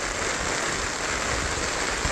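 Heavy rain pours down in a village, making a dense, steady hiss that fills the whole short stretch. It stays close and loud throughout, with no voices.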